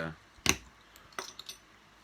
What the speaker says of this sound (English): There's the bottle cap.